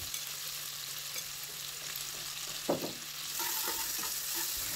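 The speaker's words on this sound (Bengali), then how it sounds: "এখন দিয়ে দেব বড় সাইজের 3টে পেঁয়াজ কুচি" Chopped onions go into hot oil with cumin and bay leaf, giving a quiet, continuous sizzle with a brief stirring clatter midway and the frying growing slightly louder toward the end.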